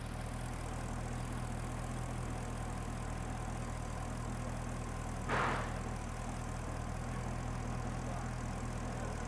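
Chevrolet Corvette engine under diagnosis for low power, idling at a steady low hum with a brief sharp knock or tap partway through, otherwise unchanged and fairly quiet.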